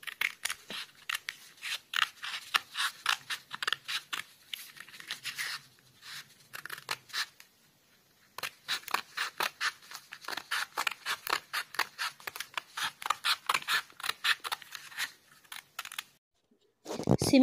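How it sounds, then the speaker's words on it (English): Scissors cut along a line through paper in rapid runs of crisp snips, close and clear, pausing briefly between bursts, with one short rustle at the end and no talk. "Now we will cut the paper in this line till this end."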